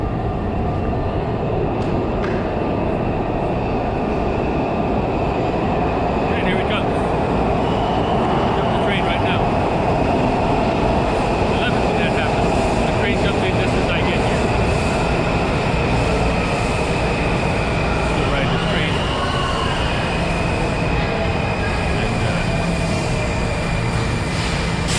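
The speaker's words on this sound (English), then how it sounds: "Here comes the train." A train passes close by with a loud, continuous rumble of rolling stock and intermittent high wheel squeals over the full length.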